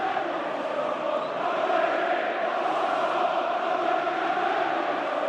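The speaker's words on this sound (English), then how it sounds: "Crowd taunting George Graham." A large football crowd at a Premier League match, Leeds United against Tottenham, taunting Tottenham manager George Graham, a steady, dense roar of massed voices that holds at an even level throughout.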